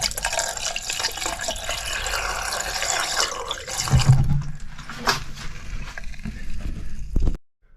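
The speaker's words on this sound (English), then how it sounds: "The basin in the bathroom with the plug removed." Water drains from the bathroom basin of a static caravan once the plug is pulled, a steady, close gurgling rush with splashy trickles that tails off into silence near the end.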